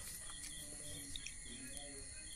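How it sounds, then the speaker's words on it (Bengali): Crickets chirp in a steady, unbroken high trill from a rural resort setting near Kolkata, continuous and fairly faint throughout, with a few brief bird-like chirps on top and no talking. "ঝিঝি পোকার ডাক"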